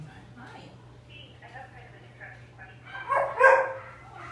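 A twenty-year-old dog gives a few short barks and yips while blood is drawn from its cephalic vein at a vet clinic, faint at first then louder near the end, with soft voices in the background.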